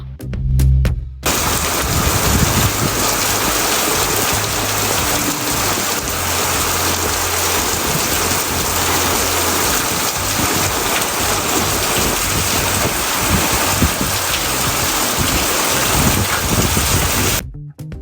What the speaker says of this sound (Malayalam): ഇടിവെട്ടും ഇടിവാളുമിന്നലും അങ്ങനെ കാറ്റും ഒക്കെ ആയിട്ട് നല്ലൊരു അടിപൊളി മഴയാണ് കിട്ടിയത്